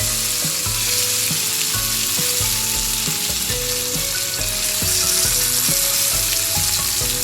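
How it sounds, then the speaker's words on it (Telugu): Chopped tomatoes go into a hot pan of sizzling tempering for a coriander-tomato chutney, a steady frying hiss running throughout beneath louder background music. "ఇప్పుడు ముందుగా కట్ చేసి ఉంచుకున్న టమాటా ముక్కలు ఇందులో వేసుకుంటున్నాను"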